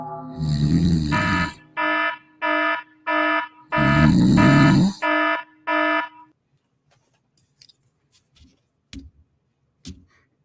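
An alarm goes off loudly in a series of harsh buzzing beeps in an irregular rhythm, then stops, leaving faint clicks and small knocks.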